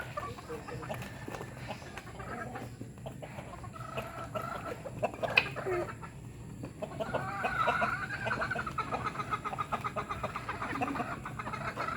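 Rhode Island chickens cluck and murmur nearby, a steady scatter of soft clucks and short calls over a low outdoor background that grows busier toward the end.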